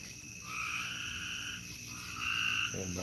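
Tree frogs croak in a steady, overlapping chorus of repeated calls, fairly close and continuous, with a louder burst of calling near the end and no talking.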